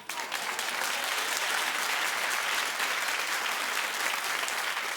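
A television talk show studio audience bursts into sustained applause, a dense, even roar of clapping that starts at once and holds steady without a break.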